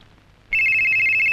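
After a brief hush a telephone suddenly starts ringing, a loud, steady electronic trill that continues unbroken to the end.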